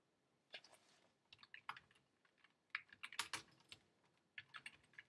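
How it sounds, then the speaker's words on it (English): Quick, irregular bursts of typing on a computer keyboard, close and fairly quiet, with clustered key clicks and short pauses between words, no voices. "I'm going to go ahead and type in my text."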